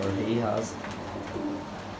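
Pigeons, including black birds, give soft low cooing calls close by, a few murmuring rolled coos overlapping, with someone speaking at times over them.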